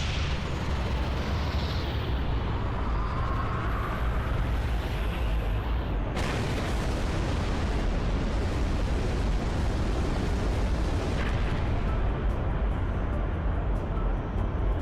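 A Halo 3 glassing beam fires with a loud, roaring, explosive wash of sound, which abruptly shifts about midway into a rumbling cool-off that lasts several seconds and thins out toward the end, with no voices.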